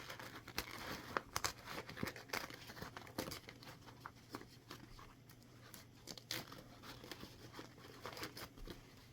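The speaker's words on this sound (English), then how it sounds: "I'm going to pull the paper off the best I can, as close as I can to the stitching" Paper stabilizer backing torn away close to the stitching of a personalized embroidered keychain, a faint run of soft crinkles and ripping tugs, close up and quiet, with no voices.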